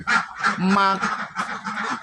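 Ducks, domestic laying ducks in a farm pen, quack and honk loudly in rapid overlapping calls for two seconds, close and continuous.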